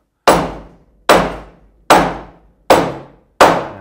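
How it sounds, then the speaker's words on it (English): A mallet knocks a wooden keelson into place on a 23-foot V-bottom skiff under construction, landing five loud, evenly spaced blows about a second apart, each ringing out briefly with no talk. "Caleb, why don't you knock that right down in place there with the mallet?"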